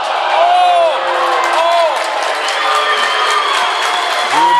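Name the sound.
basketball fans cheering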